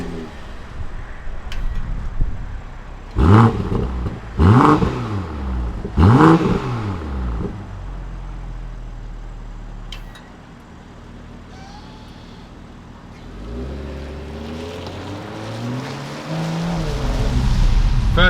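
A new BMW M440i starts off in wet conditions: three rising engine revs, then a low idle rumble, followed by the car pulling away with a swelling engine note and road noise building toward the end.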